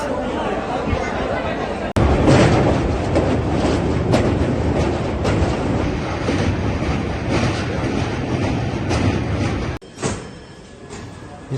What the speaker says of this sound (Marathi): आणि ही ट्रेन आली बघा इथं आपली झेलम एक्सप्रेस.